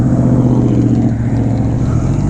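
A 2009 Honda Rebel 250 motorcycle riding in first gear, its engine a loud, close, steady hum with a buzzing low drone throughout.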